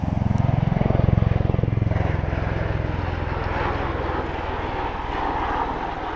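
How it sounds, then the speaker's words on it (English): Aircraft at RAF Lakenheath taking off like a helicopter, a loud, steady propeller and engine roar with heavy rotor-like thumping close by, easing slightly after the first seconds. "Watch the rotors."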